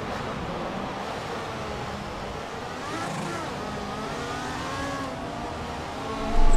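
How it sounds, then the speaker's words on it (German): Formula 1 race car engine at the Monaco race in the F1 2014 video game: a continuous high whine that rises and falls with revs, moderately loud and steady, swelling at the end. "Das Auto macht nicht, was ich will."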